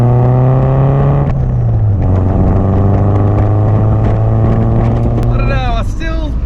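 A steady, close car exhaust drones with a low engine note under continuous talking, pitch shifting slightly as the revs change, with a faint high whine near the end.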